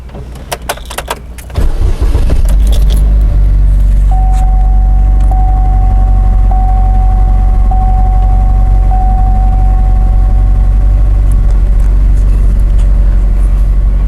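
An affordable sports car's engine cranks over and catches, settling into a loud, steady idle close by, with a repeating chime sounding over the engine for several seconds.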